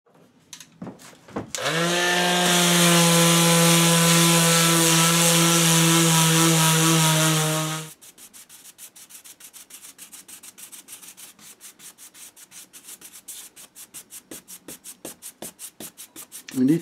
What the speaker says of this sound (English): we'll have a bit of sanding some of this